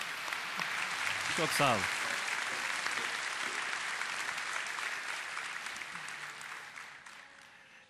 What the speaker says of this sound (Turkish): Onlara da ben büyük bir alkış rica ediyorum.